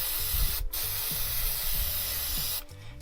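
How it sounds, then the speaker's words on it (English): Aerosol can of fast-dry solvent brake and parts cleaner spraying onto a 2010 Toyota Tundra tailgate latch, a loud steady hiss running nearly three seconds with a brief break near the start, close to the mic. "I'm actually going to use a fast dry solvent to clean it."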